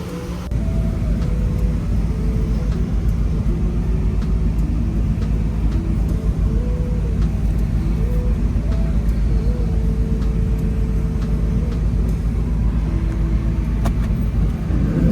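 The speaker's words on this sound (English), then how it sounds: "it's got the 1 3/4 speed engineering headers, and it's got a 3-inch off-road Y pipe with a stock cat back. So it sounds pretty good." F-body Camaro engine fitted with 1 3/4 inch Speed Engineering headers and a 3-inch off-road Y-pipe with stock cat-back exhaust, heard from inside as a steady loud low drone while driving, with small pitch shifts and no talking.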